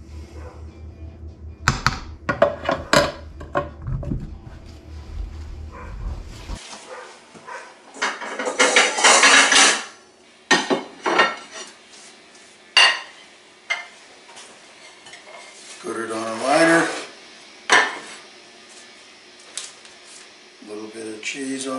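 Homemade chili ladled into a bowl, with spoon scrapes and clinks against the pot, a low rumble early on, then scattered wet scoops and taps up close.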